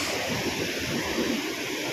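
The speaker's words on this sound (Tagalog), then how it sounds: "grabe hampas dito ang uh, ah, alon" Waves surge steadily against a Philippine provincial shore beside a construction site and dead corals, a dense continuous roar of surf and spray with no break across the stretch.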